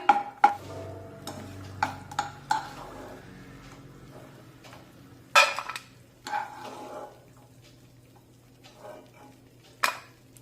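Ghee-roasted cashews and almonds are scraped from a kadhai onto a plate, with sharp metallic clinks and scrapes spaced irregularly between quieter rustling, close and alone.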